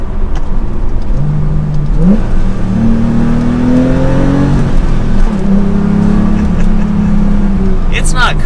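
Porsche 911 Carrera T with a 370-horsepower turbocharged engine and manual transmission, accelerating in Sport Plus mode: a loud, steady engine drone rises in pitch through the gears, with a clear shift partway through and a speaking voice over it.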